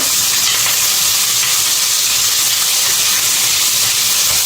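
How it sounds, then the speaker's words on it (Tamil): Green chillies and chopped onions frying in a pan for mutton curry while being stirred, a loud, dense, continuous hiss and sizzle heard up close. "நம்ம பச்சை மிளகாய் ஆட் பண்ணிக்கலாம் அதோட நம்ம கட் பண்ணி வச்சுருந்த வெங்காயத்தையும் ஆட் பண்ணிக்கலாம்"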